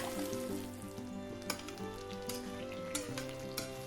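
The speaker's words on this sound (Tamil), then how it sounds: "இப்போ அதோடு இந்த கத்திரிக்காயையும் சேர்த்து நல்லா வதக்கி எடுத்துக்கலாம்" Brinjal (eggplant) sautés in oil over a medium flame, giving a soft, fairly quiet sizzle with occasional sharp stirring clicks from a utensil.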